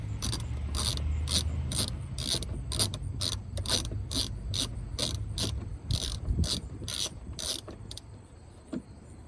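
Rapid ratchet clicking as a 10mm socket loosens radiator bolts on a 2008–2012 Ford Escape, coming in repeated short bursts over steady background noise, with no talking.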